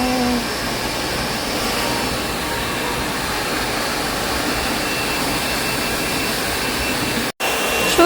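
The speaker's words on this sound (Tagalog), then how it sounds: "Kahit sabay-sabay pa kayo sa pag-blow dry." Blow-drying at a salon: a hair dryer roars loud and steady from start to finish, interrupted only by a momentary cutoff near the end.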